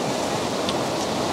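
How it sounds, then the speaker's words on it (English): Ocean wave surging around coastal rocks at sunrise, a dense, continuous rushing wash of water that stays loud throughout the brief moment. "a big push, a big wave"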